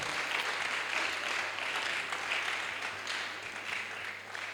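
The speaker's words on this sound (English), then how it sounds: "it's a good place to clap if you want to clap" Church congregation applauding during a sermon, a sustained even roll of many hands clapping, moderately loud and unbroken, with a low steady hum beneath.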